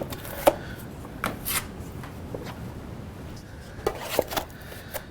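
A wide putty knife spreads and feathers filler over old anchor holes in a plaster wall, making short, scattered scraping strokes close by, with quiet pauses between them.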